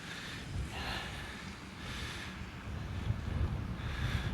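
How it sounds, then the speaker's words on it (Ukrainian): Strong wind on a hilltop in Hirtshals, Denmark, buffets the microphone in a steady low rumble with gusts that swell and ease, and no voices. "Як так на возвишеності стою, то звісно задуває вітер"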